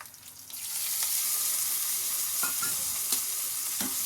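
Chopped okra, mustard seeds and green chilli sizzle steadily in a hot pan, a broad continuous frying hiss with a few soft stirring knocks, close and fairly loud, no voices.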